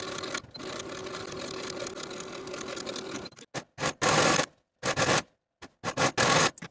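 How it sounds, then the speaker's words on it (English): Sewing machine stitching the side seam of a silk dress, first a long steady run, then a series of short start-stop bursts separated by silences, loud and close. "Sew your left side seam from underarm seam to the bottom of the dress with a 5/8 inch seam allowance"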